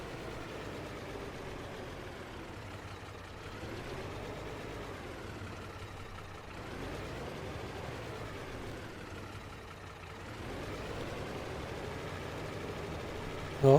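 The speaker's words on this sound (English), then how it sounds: "oh, I've got wheel spin." A tractor in Farming Simulator 22, set on a Missouri farm, drones steadily through a long continuous run with slow swells in its engine note, ending in a brief louder bump.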